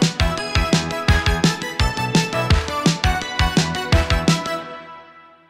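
A full synth recreation of a song, drums, bass and keyboard parts together, drives a loud, steady, punchy rhythm for several bars before the mix fades out at the end.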